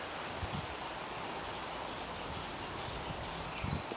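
Strong wind blowing outdoors in Southern California, a steady broadband rush of gusts buffeting the microphone, with no talking.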